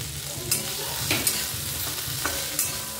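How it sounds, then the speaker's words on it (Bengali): Vegetables such as potato and cauliflower frying for bhaja, a dense sizzle with a few scrapes and knocks of a spatula stirring the pan. "আমি 5 রকম ভাজাটা করে নিলাম"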